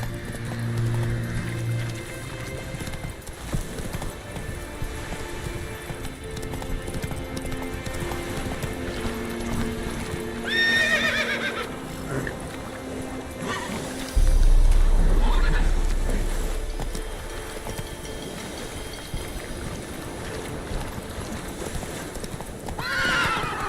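Horse in The Witcher 3 game galloping with rapid clip-clop hoofbeats, giving two clear whinnying neighs along the way, a heavy thump partway through, with music and voices underneath.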